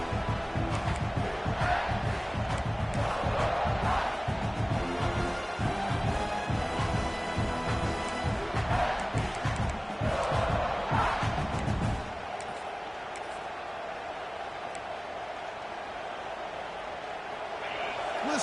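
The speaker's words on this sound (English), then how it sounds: "Listen to the crowd energy here in the early going." A large stadium crowd at a football game roars and cheers loudly and continuously, then settles into a lower, steady murmur toward the end.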